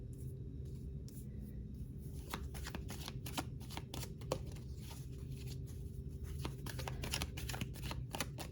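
Tarot cards are shuffled up close, a continuous run of crisp riffling snaps and papery flicks over a faint steady hum, with no one speaking.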